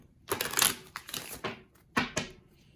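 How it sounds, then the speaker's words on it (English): Crisp riffling bursts of a deck of cards being shuffled, several quick flurries close by, with no talking. "I know I shuffle a lot."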